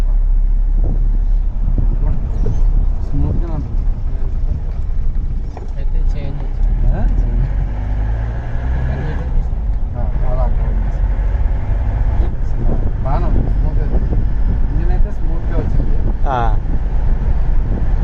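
Car engine running steadily in fifth gear at about 40 km/h, a continuous low drone with road and wind noise throughout, under nearly constant talk.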